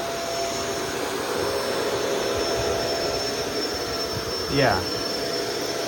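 A Shark Rotator DuoClean Powered Lift Away upright vacuum runs with a steady, loud whirring motor roar and high whine throughout, and a brief voice is heard near the end.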